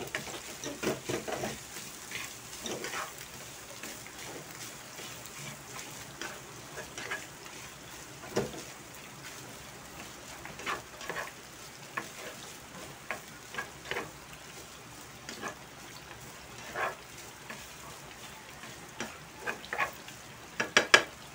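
Fried rice stirred and tossed in a pan at home, with a steady sizzle of frying under repeated scraping and clinking of a utensil against the pan, continuing for a long stretch with no talk.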